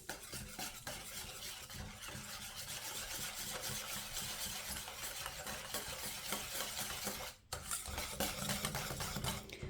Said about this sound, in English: So we're going to do a couple dashes of cinnamon. So like I said, I'm not adding any more vanilla to this. Let's give this a mix.